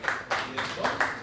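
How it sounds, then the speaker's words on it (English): An audience at a Bitcoin meetup gives a short burst of clapping in uneven waves, mixed with speech. "Claps for you."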